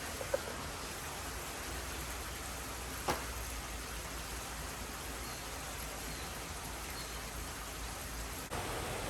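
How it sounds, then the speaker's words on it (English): Rain moves in over a farm in tropical Thailand, a steady, even hiss of falling drops with a couple of faint knocks and no one speaking. "right as I'm finishing up, rain's coming in, so help settle in all that new mud"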